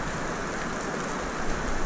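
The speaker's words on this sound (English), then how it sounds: "Like it's raining." Steady rain falls and patters on surfaces during an outdoor stop while hauling reels, forming a dense, even hiss that stays close and fairly loud for the whole stretch with no voices.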